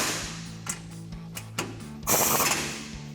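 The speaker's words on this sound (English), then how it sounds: "Next, we can grab an 18mm socket to tighten down our lower strut nuts." An 18 mm socket ratchet tightens the lower strut nuts on a Ford F-150 during a front leveling-kit install, giving short bursts of clicking and metallic clatter with brief pauses between strokes.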